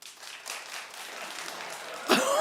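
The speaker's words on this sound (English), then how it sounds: "I'm just saying the claps dimmed" A studio audience on a daytime talk show claps, a scattered, fairly quiet patter through most of the moment that swells into a louder burst near the end.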